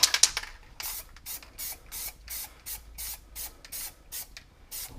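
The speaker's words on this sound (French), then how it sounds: "On remonte un peu la bombe pour atténuer l'opacité." Spray can of black paint hissing out in a dozen short, regular bursts while a nocturnal landscape is painted as urban art, close and fairly quiet with gaps between each puff.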